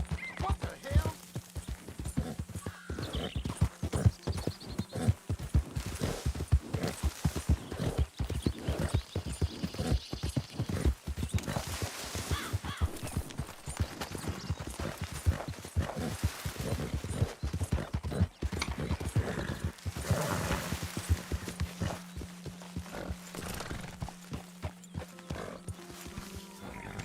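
Horse hooves clip-clop in a rapid, continuous rhythm in the video game Red Dead Redemption 2, with occasional whinnies and voices talking over the galloping.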